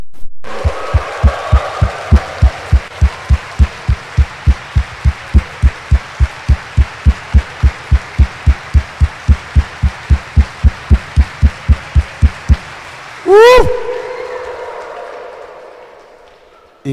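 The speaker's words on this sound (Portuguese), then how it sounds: "Então dê uma salva de palmas para Ele." A church congregation at Mass claps in a steady, rhythmic beat, dozens of even claps for about twelve seconds, with a short burst of sound after the clapping stops.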